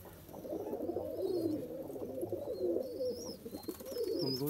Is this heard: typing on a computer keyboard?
no